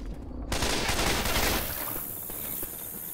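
Dense rapid gunfire from Left 4 Dead with a Christmas mod, a loud continuous fusillade of overlapping shots that swells after a brief opening and stays heavy, easing slightly toward the end.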